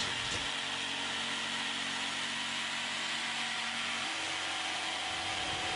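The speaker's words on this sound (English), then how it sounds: "The GST 140 is capable of cutting dead straight in a variety of materials" A Bosch GST 140 BCE jigsaw cuts through wood with a steady, continuous buzzing drone that holds at an even level throughout, close by and with no talking.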